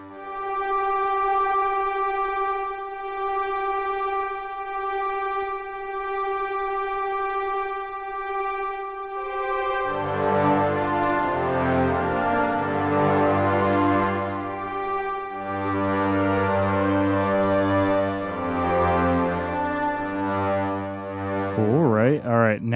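A Skyrim-style ambient string synth pad played on a Novation Peak synthesizer, a loud sustained tone that thickens into layered chords about halfway through and holds, ending with a wavering pitch sweep, no talking.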